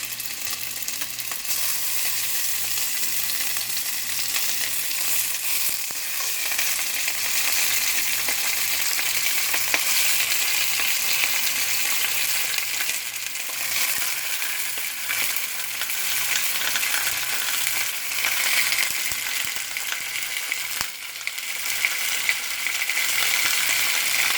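Chicken tenders frying in heated canola oil in a cast iron skillet: a steady, close, crackling sizzle that holds for the whole stretch with small bursts of popping and no talking.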